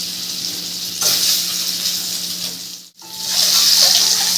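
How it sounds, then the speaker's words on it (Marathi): Eggs frying in a little oil over low-medium gas, a steady close sizzle throughout with a brief dip partway before the frying noise returns, no talking. "तर हे बघा अंडी अशी हलगत बारीक लो मिडियम गॅसवर आपल्याला अशी तळून घ्यायची"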